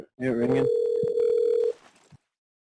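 A telephone call ringing through on the line to a fast-food restaurant, one long steady tone after a short burst of speech, with a faint click and quiet line noise as it cuts off.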